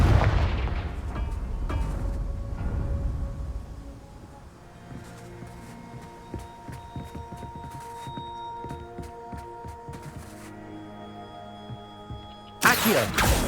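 A Confringo blasting spell detonates in Hogwarts Legacy, a heavy boom at the start that fades into quieter scattered thuds and clanks, then another loud burst at the very end.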